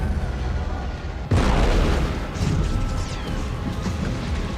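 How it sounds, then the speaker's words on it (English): A spaceship crashes into the ring in Alien: Romulus, a sudden loud impact bursting out of a tense rumble and followed by a sustained roaring, rumbling crash with scattered debris sounds. "The ship is crashing into the ring"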